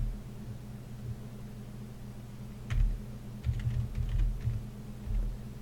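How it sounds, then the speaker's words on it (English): Keys tapped on a computer keyboard in short clustered bursts, with a carriage return press among them, close and fairly quiet over a low steady hum, no voices. "let me go ahead and hit carriage return here so that you can see the whole line there"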